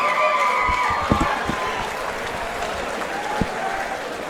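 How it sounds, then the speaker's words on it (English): Applause and crowd noise at a SuperFight 10 fight event, dense steady clapping from an audience with scattered cheers and a few sharper claps, fairly close. "Give a round of applause, please."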